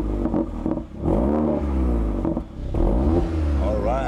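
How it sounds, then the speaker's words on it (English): Four-cylinder engine of a Mercedes-AMG CLA 45 with AMG sports exhaust revving loudly and close up, rising in pitch through several throttle blips with short dips between them. "Does this 4-cylinder boy sound at all like a true AMG? You want to hear a sound sample?"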